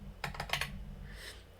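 Quick keystrokes on a computer keyboard, a short burst of four or five crisp clicks close up, then a softer trailing tap as the typing stops.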